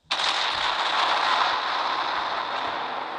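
An explosion in the Melon Sandbox game, a sudden loud blast followed by a sustained roaring, crackling rumble that slowly eases off, with no talking.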